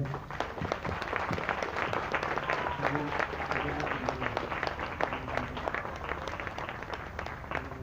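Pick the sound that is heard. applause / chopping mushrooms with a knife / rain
applause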